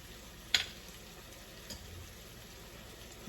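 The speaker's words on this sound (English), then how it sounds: "Give it a good stir" Szechuan chutney, soy sauce and ketchup sizzle steadily in a hot pan for chili chicken, with a faint soft fry hiss under one sharp utensil tap near the start and a lighter knock later.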